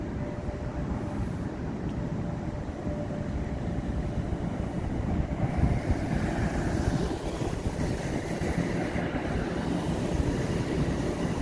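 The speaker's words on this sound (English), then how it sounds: "And a good spot to see trains pulling into" A Toronto subway train rumbles into or out of Davisville Station, a steady low roar with rail noise and some wind, heard continuously from an outdoor vantage at evening.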